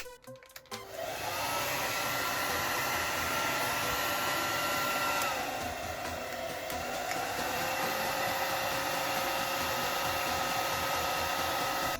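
A DELTA lux DL-0460 hair dryer roars on after a brief start-up click, holding a steady, loud, close blowing whir with a faint high whine throughout.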